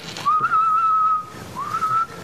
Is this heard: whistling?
yes